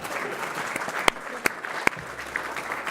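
Audience applause at a formal awards dinner, fairly soft and steady, with a few sharper individual claps standing out.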